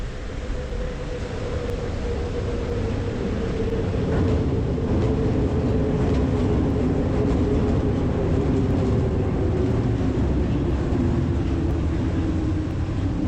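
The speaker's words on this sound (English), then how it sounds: "That's the train that just passed us right above us." A train rumbles by on an overhead elevated track above Front Street in Fishtown, Philadelphia, a loud, continuous roar with rattling and a steady droning hum, no talking.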